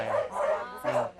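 Several dogs at a dog shelter bark and yip in short bursts, fairly close and loud, with a whimpering edge between barks.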